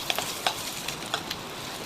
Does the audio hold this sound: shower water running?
no